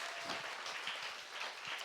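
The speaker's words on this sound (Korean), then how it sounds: "박수" A church congregation claps during a sermon, a short, steady patter of many hands heard at moderate distance and fairly soft.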